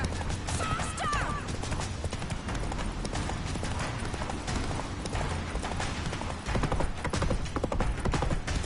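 Rapid clip-clop of a galloping horse in The Witcher 3, steady and loud across the whole stretch with busy game action layered on top and a brief whistling tone early on.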